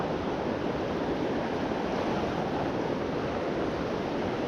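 Steady, unbroken rush of a river on Colorado's western slope, a dense broadband wash of flowing water heard close and constant with no voices.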